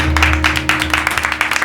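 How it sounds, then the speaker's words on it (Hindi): Dense, steady audience applause on the set of the Hindi TV series Maddam Sir, sustained throughout with a low electrical hum beneath and no voices. "बस इतनी तालियां मत बजाइए"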